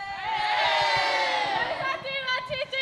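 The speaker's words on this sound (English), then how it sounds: "Ladies of Westmont, take us out with a cheer." Westmont cheerleaders shout a team cheer together, a loud, sustained chorus of high voices ringing out with crowd-like energy, trailing off into scattered shouts near the end.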